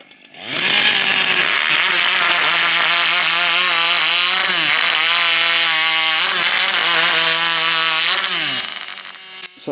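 Chainsaw fitted with a rotary engine running at a steam rally, a loud, close, sustained high-pitched whine with a few brief pitch dips as the revs change, starting abruptly and cutting off near the end.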